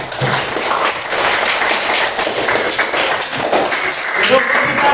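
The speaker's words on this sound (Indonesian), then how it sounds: "Beri tepuk tangan untuk kita semua pada hari ini." Clapping from a group in a classroom-style teacher session, a steady dense patter through the whole stretch with talk mixed in.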